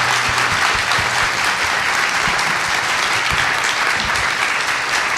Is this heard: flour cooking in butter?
no